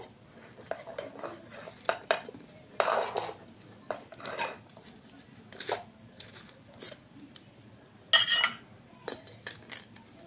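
A baked cake being lifted onto a plate in a small kitchen, with a series of light metallic clinks, scrapes and taps of utensils against dishes, irregularly spaced, close and fairly quiet with short silent gaps.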